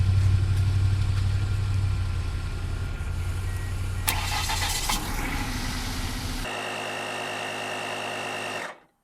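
A car that has sat for months is started with the ignition key, likely with a battery jump starter: a steady mechanical whir cranks on, a sharper burst sounds, and the engine noise then cuts off abruptly.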